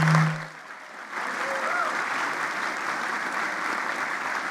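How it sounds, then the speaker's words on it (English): An audience breaks into steady applause at a live evening event with film critics Margaret Pomeranz and David Stratton; the clapping starts after a brief pause and holds at an even, full level to the end. "can I have a round of applause?"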